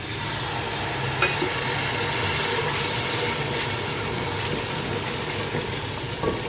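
Desi chicken being stirred in a pot with turmeric, salt and other spices, giving a steady, dense scraping and sizzling hiss that runs continuously with a few small clicks and knocks, close and moderately loud, with no talking.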